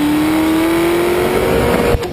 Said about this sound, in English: Just floor it, drop the clutch, and let the magical leprechauns that run the computers manage engine output